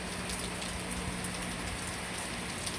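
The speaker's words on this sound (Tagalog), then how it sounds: "nagsimula ang malakas na ulan mga idol at hangin." Heavy typhoon rain pours down in a dense, unbroken hiss on Burias island, loud and steady throughout with no voices.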